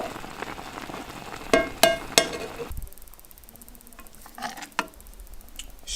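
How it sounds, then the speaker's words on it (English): Stirring a creamy Cajun shrimp and grits sauce in a pan, with a few soft scraping clinks of the utensil and a faint bubbling sizzle underneath, fairly quiet and close, with no talking. "I'm gonna give this a stir until it gets nice and creamy."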